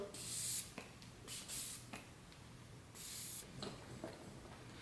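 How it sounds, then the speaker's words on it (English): Benefit Professional setting spray misted onto a face in several short, soft hissing bursts, each a quick airy spritz with pauses between, close and fairly quiet with no talking. "So I'm using the Benefit Professional setting powder or setting spray."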